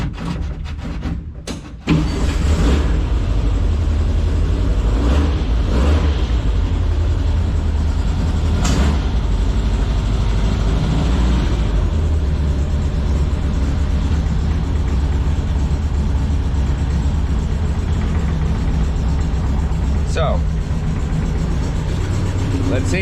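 A 1961 VW Beetle's air-cooled engine cranks with a few sharp bursts, then settles into a steady, close, loud idle with a low throbbing drone, a faint voice occasionally heard underneath.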